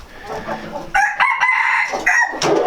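A blue rooster in a breeding pen crows loudly nearby in a couple of strained, harmonic bursts, with some low clucking and faint voices in the background.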